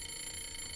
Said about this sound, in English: I hear you ringing. Ringing and ringing